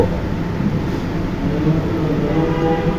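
A Khulna to Dhaka passenger train runs at speed, a loud, steady rumble of wheels on rails with dense, continuous clatter and no voices.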